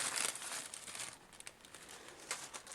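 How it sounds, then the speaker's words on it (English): Tissue paper crinkles and rustles as it is peeled off a boxed Hornby Class 86 model locomotive in EWS livery, a close, soft crumpling in short bursts with no talk. "let's take this tissue paper off and take a look at it"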